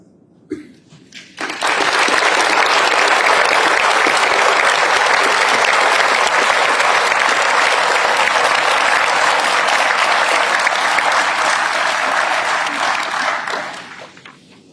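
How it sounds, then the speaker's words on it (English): A crowd at a Yom Hashoah commemoration in Charleston applauds Mr. Snyder, sustained loud dense clapping that starts after a brief quiet moment and holds steady for over ten seconds before tapering off. "I stand and applaud Mr. Snyder"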